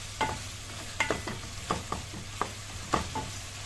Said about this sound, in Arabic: احنا هنقعد نشوح في اللحمه دي لغايه ما لونها ده يتغير خالص